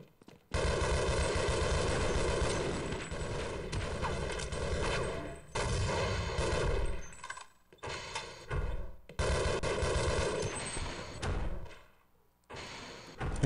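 Rapid gunfire in Half-Life, loud sustained bursts of automatic shooting with short gaps between volleys, broken by a few sharp single shots and brief silences.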